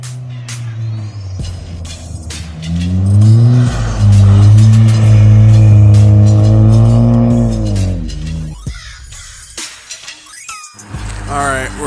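A front-wheel drive Ford ST car drifts on snow, its engine revving hard with sweeping pitch rises and falls and a brief tire squeal, loud and close, then dropping away to quieter bursts near the end.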